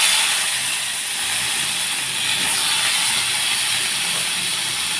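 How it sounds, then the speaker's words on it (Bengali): Small whole tomatoes dropped into a hot kadai with spluttering mustard seeds for a Bengali chutney, giving a steady, loud broadband sizzle and hiss with faint crackling throughout, no talk over it. "টমেটোগুলো ছেড়ে দিচ্ছি।"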